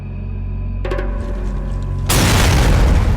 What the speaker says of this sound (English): I heard the explosion, so I knew straight away that was a mine.